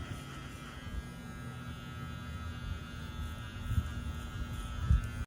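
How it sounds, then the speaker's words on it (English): Lanvier 7500RP cordless hair clipper cutting hair, a steady low electric hum and buzz close by, with a couple of brief louder scrapes near the end. "as my wife started cutting my hair with my new clippers, they were really solid"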